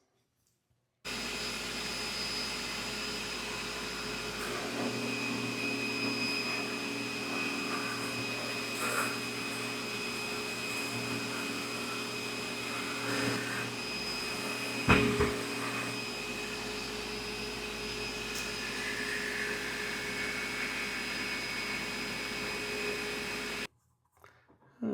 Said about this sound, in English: let's buff it and see what it looks like